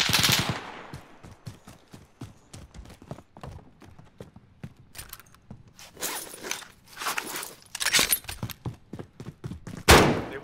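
Gunfire erupts in a video game: irregular sharp cracks and quick bursts, some near and loud and others softer, mixed with busy footstep-like clatter and no clear talking.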